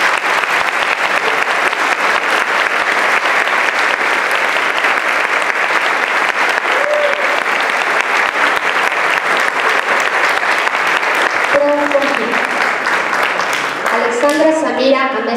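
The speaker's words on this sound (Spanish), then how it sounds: "Un fuerte aplauso, por favor," An audience at a school ceremony applauds loudly and continuously, a dense wash of clapping from a large crowd, with a few voices rising near the end.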